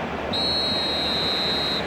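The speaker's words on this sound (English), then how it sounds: "And there is the half-time whistle." A single long referee whistle blast for half-time in the eFootball 2025 football video game, steady and piercing for well over a second over a constant stadium crowd roar.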